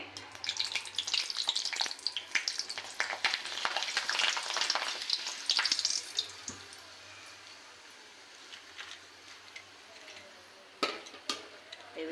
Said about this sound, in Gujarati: આવી રીતના આપણે બધા ભૂંગળા તળી લઈએ